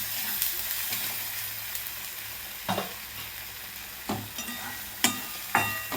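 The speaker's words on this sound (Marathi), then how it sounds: "हे सगळं मिक्स करून घ्यायचं आहे आपल्याला" A masala mixture is stirred in a frying pan over a constant soft sizzle, with several sharp scraping clinks of a spoon against the pan, heard alone and up close.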